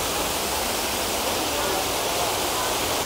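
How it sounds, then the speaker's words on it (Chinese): A steady, unbroken roar of falling water from a waterfall in a national geological park with rocky caves and eroded stone, dense and even with no voices over it. "呢度已經有一個瀑布啊！"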